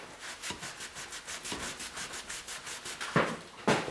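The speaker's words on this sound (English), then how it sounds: "it's always a good idea to wipe off any excess glue before it dries" A wet rag rubs excess glue off a wooden picture frame in quick back-and-forth strokes, a close, fairly quiet steady scrubbing rhythm with no talk.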